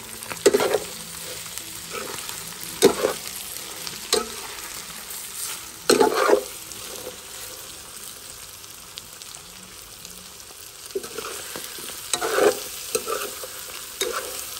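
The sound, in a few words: onions frying in a pan for andouille rougail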